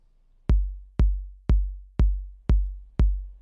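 A steady four-on-the-floor electronic dance kick drum thumps six times at an even pace, each beat deep and booming with a short decay, alone with no other sounds.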